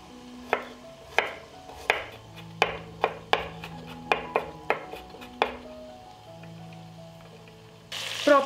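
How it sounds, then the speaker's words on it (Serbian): A knife chops four garlic cloves on a board in a home kitchen: about a dozen crisp, close strikes in an uneven rhythm, then a brief louder rustle at the end. "iseckat ću sada 4 češnja belog luka"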